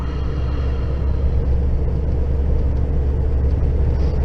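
A vehicle hauling a load of straw cruises in top gear on a road, giving a loud, steady low rumble of engine and road noise from inside the cab with no talk.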